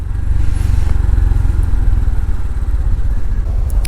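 A Honda CT125 Hunter Cub motorcycle rides through Dublin commuter traffic, its small single-cylinder engine putting out a close, steady low thrumming putter that stays loud throughout.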